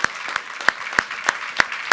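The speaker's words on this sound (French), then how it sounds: "je voudrais applaudir tous les réalisateurs et producteurs qui ont participé" Audience applause for directors and producers at a documentary award ceremony during the Luchon TV festival: distinct, evenly spaced claps ringing out loudly, with a thin layer of scattered clapping underneath.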